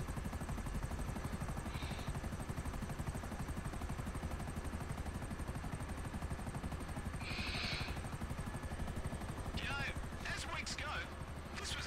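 In GTA V Online, a helicopter's rotor chops in a fast continuous rhythm at moderate distance, with a few faint scraping and clicking bursts layered over it.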